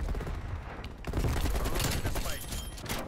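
An AK-47 assault rifle fires in rapid bursts in Black Ops Cold War, loud close automatic gunfire with other battle noise, while a player talks over it.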